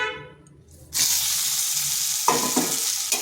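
Eggplant pieces hit a hot pan of fried neem leaves and burst into a loud, steady sizzle after a brief quiet start, with a few clinks and stirring scrapes near the end.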